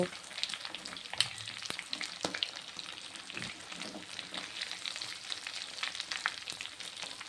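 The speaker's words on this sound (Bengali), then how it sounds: "সবগুলো চিকেন একসঙ্গে দিয়ে ভালোভাবে ভেজে নিচ্ছি" Chicken pieces frying together in a pan over a medium gas flame, with a steady dense sizzle and crackle throughout and occasional sharper pops and utensil clicks, close and alone.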